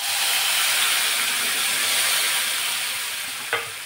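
A spice mixture of turmeric and red chilli powder hits hot oil in a tempering for a small village tomato curry, giving a loud, steady, close hiss and sizzle that fades slightly, with a brief clink near the end.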